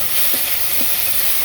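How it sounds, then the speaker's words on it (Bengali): Small fish fry in a pan with a steady, close hiss of hot oil. The sizzle stays even throughout this short moment, with faint bubbling and no voices. "ছোট মাছটি ভেজে নিতেছি।"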